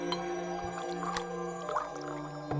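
Liquor pours into a glass with wet glugging and gurgling squishes, several uneven bursts of liquid close by over a faint background hum.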